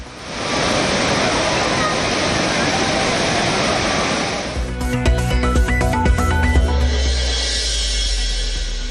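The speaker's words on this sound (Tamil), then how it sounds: "விடுமுறை தினமான இன்று திருப்பரப்பு அருவியில் திரண்ட சுற்றுலா பயணிகள்." The Thirparappu waterfall roars as a dense, steady rush of falling water where tourists bathe on a holiday. After about four seconds the roar gives way to music.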